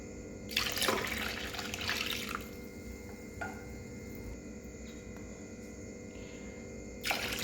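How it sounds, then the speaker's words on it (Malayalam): Coconut milk mixed with water is poured into a vessel holding rice flour, a steady liquid splash and trickle running most of the clip, near and moderately loud, with a brief louder burst at the end. "സെയിം കപ്പിന് തന്നെ 2 കപ്പ് വെള്ളം തേങ്ങാപ്പാൽ ഒഴിച്ച് കൊടുക്കാം"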